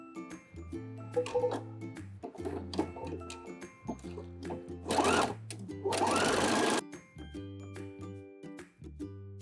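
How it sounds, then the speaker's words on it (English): A sewing machine zigzag-stitches over fabric while fabric flowers are being made, running in short, quiet bursts with pauses and soft clicks in between. "Now what you want to do is zigzag over these 2 stitches."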